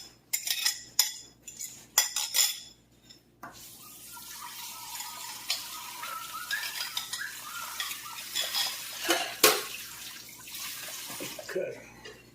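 Faucet water runs and clinks at first, then a utensil mixes beaten egg into ground beef in a bowl for meatloaf, making close, wet squelching and scraping sounds that rise and fall.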